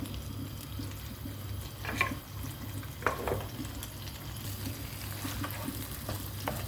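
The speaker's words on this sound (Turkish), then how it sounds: "Soğanlarımı kavururken ben tuzla birlikte kavuruyorum." Onions fry with salt in a pan, giving a soft, steady sizzle with a couple of brief stirring scrapes and clicks; quiet overall, no voices.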